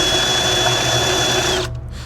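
A power drill driving a tiller attachment through compost, its loud, steady motor whir running continuously before cutting off sharply near the end and leaving a quieter rumble.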